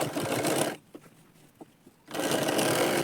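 A sewing machine stitches a lined blouse with a close, steady whirring run, pauses briefly with a few small clicks, then whirs on again just as loudly.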